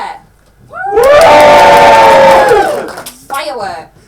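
An audience at a live stage musical performance cheers and whoops to cast a vote, a loud swelling shout of many voices that peaks for over a second, then fades into scattered calls and a shorter second burst.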